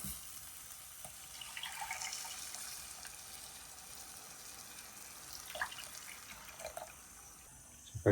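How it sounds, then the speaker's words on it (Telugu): Tamarind juice poured and stirred into a simmering fish curry, giving a faint, steady watery wash with a few soft splashes and clinks. "చింతపండు పులుసు కలిపేసుకోవడం."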